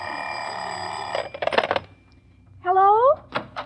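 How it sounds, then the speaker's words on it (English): An old-fashioned telephone bell rings in a long clattering burst, followed by a pause and shorter rings mixed with a warbling tone, loud and close. "Just the phone ringing."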